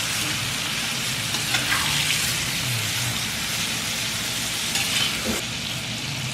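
Half a kilogram of halved tomatoes fries in a pan with ginger and green chili, giving a loud, steady, close sizzle that runs unbroken throughout, with occasional stirring scrapes and no talk.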